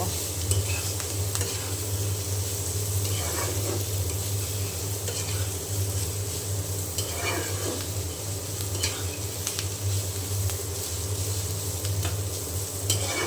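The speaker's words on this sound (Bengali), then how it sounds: "ধনিয়া পাতা দিয়ে আমি আর কিছুক্ষণ একটু নাড়াচাড়া করে তারপরে নেড়ে চেড়ে নামিয়ে নেব" A radish and cauliflower-stalk vegetable fry cooks with coriander leaves in a pan, giving a constant loud sizzle with repeated stirring scrapes over a low, steady hum.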